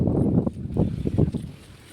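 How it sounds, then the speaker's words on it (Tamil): Strong wind gusts roar and buffet a home garden with fruit trees, a steady low rushing noise that swells and eases in waves with no talking. "வீடியோவில் கேட்டாவே தெரியும் எவ்வளோ காற்றடிக்குதுன்ட்டு."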